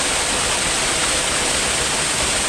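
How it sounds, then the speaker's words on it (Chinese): Longyan Waterfall in the mountains of Nanchuan, Chongqing, heard from below on a windy day: a loud, steady, broadband roar of falling water that holds unbroken throughout, with no voices over it. "我现在就在这个龙岩瀑布的下面，因为风很大，瀑布很高"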